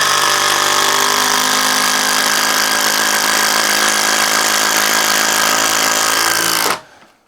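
A Craftsman power tool fitted with a 5-inch power lag bit runs loud and close in one continuous, dense roar, then cuts off abruptly just before the end.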